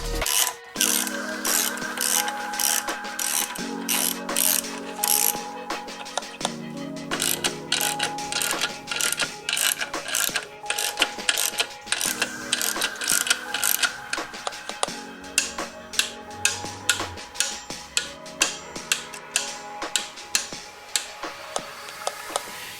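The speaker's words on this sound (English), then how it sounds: "Now I'm gradually going to torque these down to 19 foot-pounds using the skip 1, skip 1, skip 2 method" A torque wrench ratchets steadily as clutch pressure plate bolts are tightened down on an Ecotec-swapped Miata. Runs of rapid, close clicking pawl ticks come in bursts with short pauses between them, and no voices are heard.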